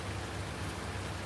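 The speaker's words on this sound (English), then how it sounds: "It looks like this is going to rain all afternoon." Steady rain falling on a wet afternoon on a farm during windrowing, an even, dense hiss with no distinct drops and no voices.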